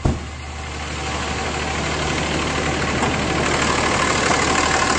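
A Cummins 5.9L diesel engine in a 2007 Dodge Ram 3500 idles steadily and loudly after a sharp start, its low rumble even with a faint knocking rattle throughout.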